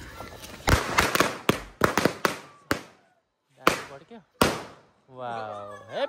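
Diwali firecrackers burst in a rapid series of sharp, loud bangs at a home Laxmi Puja celebration, a few more cracks following after short pauses, then people cheering and talking.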